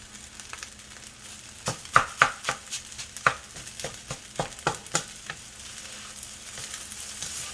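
Pork fried rice with oil and onion sizzles in a pan, as a spatula scrapes and taps in a quick, irregular run of sharp clacks over a soft, steady frying hiss.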